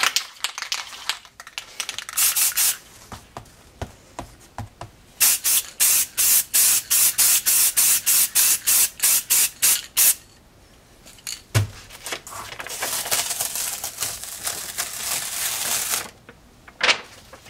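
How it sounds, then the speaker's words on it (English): Aerosol spray paint can hissing over a stencil in repeated short bursts, a run of rapid evenly spaced puffs followed by longer sustained sprays, close and loud with no talking. "Let's spray it."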